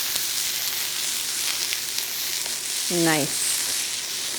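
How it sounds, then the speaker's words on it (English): Corn sizzles in a hot frying pan as it is tossed, a steady close frying hiss that runs throughout, with a brief spoken word near the end. "I am going to add in now about a cup of corn to my pan. A quick toss."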